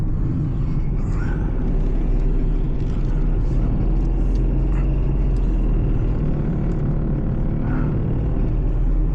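An old car's engine rumbles loudly and steadily from inside the moving vehicle, a deep, rough droning that never lets up.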